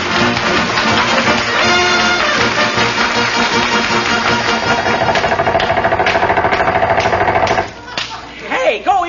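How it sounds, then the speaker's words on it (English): Air hammers chop loudly at fresh pavement in a staged radio drama effect. There is a dense, rapid pounding and mechanical clatter for most of the stretch, then it cuts off and voices break in. "Mrs. McGee, we'll have to use air hammers and chop him loose."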